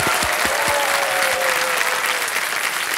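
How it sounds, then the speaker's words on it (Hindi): Loud, dense audience applause fills a Kaun Banega Crorepati studio for about three seconds, steady and sustained with a few sharper claps near the front. "एक बार जोरदार तालियां हो जाए"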